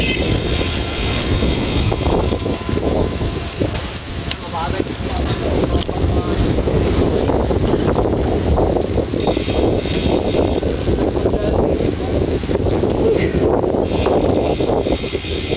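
Strong wind buffets the microphone during a bike ride around Sampaloc Lake, a loud continuous roaring rush throughout, with people talking underneath.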